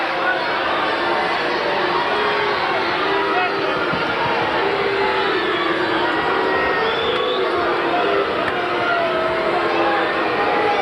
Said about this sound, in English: the crowd continue to boo